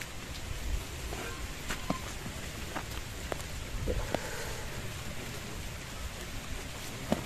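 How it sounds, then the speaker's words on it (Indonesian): A light drizzle falls outdoors, a steady soft hiss of rain with scattered closer drip taps, alone without talk. "Ini lagi hujan gerimis"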